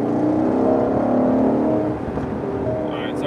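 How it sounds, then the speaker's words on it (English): A 2021 Aston Martin Vantage Roadster's exhaust hums loud and close from inside the moving car, a steady engine drone that eases slightly partway through, with a faint electronic beep near the end. "Yeah, we got an exhaust. Jeez, that sounds good."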